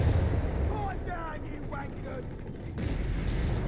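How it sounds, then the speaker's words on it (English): Anti-tank rifle fire in Company of Heroes 3, loud sharp shots and heavy battle noise over a dense combat background, with someone talking over it. "Atlas moving forward here, getting hit here with the anti-tank rifles"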